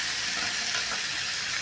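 Potato pieces frying in a pan with spices, a steady close sizzle and crackle filling the whole stretch without talk.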